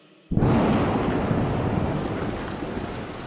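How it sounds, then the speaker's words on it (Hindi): A sudden loud thunderclap bursts in after a brief quiet and rolls into a long, heavy rumble with rain-like hiss, used as a dramatic effect in a horror story, with no speech. "बादल ऐसे गरज रहे थे मानो किसी कयामत का संकेत दे रहे हो"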